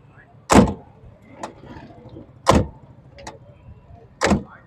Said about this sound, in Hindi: दरवाजे भी बड़े ज़बरदस्त हैं, टक करके खुल रहे हैं।